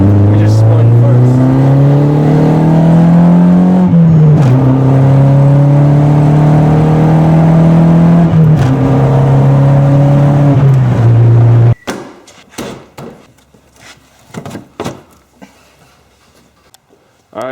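A Volkswagen MK4 Jetta GLI on its stock intercooler revs loudly through several rising gear pulls for about twelve seconds, then the engine cuts off abruptly, leaving quieter clattering and handling noises.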